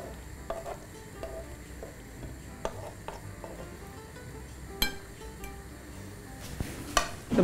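Gnocchi in marinara sauce being stirred with grated grana parmesan in a pan, giving soft wet stirring and faint sizzle with occasional light clinks of a utensil against the pan, close and fairly quiet, no talking.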